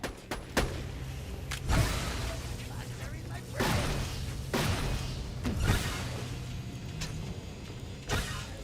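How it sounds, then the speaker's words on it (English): Gunfire aimed at a bot in the video game Borderlands, several bursts of shots and thuds spread across the stretch at close range, with a voice talking over the action. "Quit shooting the bot, ignoramus."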